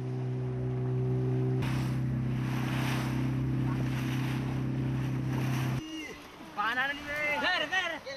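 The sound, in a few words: motorboat engine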